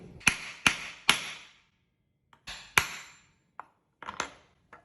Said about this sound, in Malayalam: അപ്പോൾ ഇതേപോലെ തന്നെ തിരിച്ചു വെച്ചിട്ട് നമുക്കിതിനെ വീണ്ടും കട്ട് ചെയ്യണം.